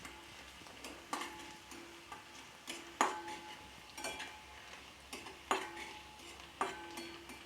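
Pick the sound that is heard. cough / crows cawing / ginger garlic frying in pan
ginger garlic frying in pan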